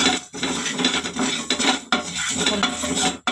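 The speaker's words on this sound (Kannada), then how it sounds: "ಸಣ್ಣ ಉರಿ ಇಟ್ಕೊಂಡು ಇದನ್ನು ಲೈಟಾಗಿ ಫ್ರೈ ಮಾಡ್ಕೋಬೇಕು" Black peppercorns, mustard seeds and cumin lightly dry-frying on a low flame for coriander chutney, heard as continuous gritty scraping and stirring of the pan with a spoon, close and loud, with a couple of brief pauses.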